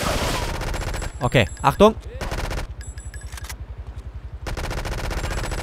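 Enemies firing in the video game GTA 3 with rapid automatic gunfire in long, dense bursts, broken by a short gap, close and loud, while someone speaks briefly in between.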